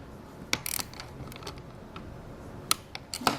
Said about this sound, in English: I'm using a 10mm wrench underneath here to finish tightening the bolt.